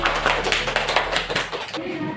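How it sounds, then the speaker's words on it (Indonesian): A classroom of students claps on a teacher's cue, giving a short burst of quick, close hand claps that fades after about a second and a half, with voices nearby. "Oke, beri tepuk tangan."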